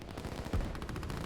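Artillery fire in the real-time strategy video game Line War, a rapid rattling series of faint, distant shots in quick succession with one heavier thump midway, no talking.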